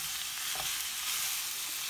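Sloppy joe meat sizzles steadily in a hot pan while it is stirred, a close, dense hiss with a soft scraping bump partway through.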